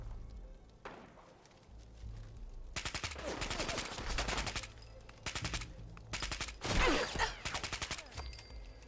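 Gunfire in Fallout 4 combat, including shotgun blasts, comes as loud clustered bursts of rapid shots separated by brief lulls, with a faint low background hum.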